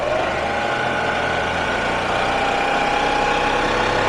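A GM T400 automatic transmission with a safe-neutral valve body running on a test rig while shifting into first gear: a steady, even mechanical drone with a faint whine, constant level throughout, no voices.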